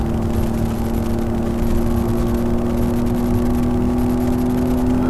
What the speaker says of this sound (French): Là je suis à fond, c'est pas spécialement péchu, mais le petit 4 cylindres fait plutôt bien son boulot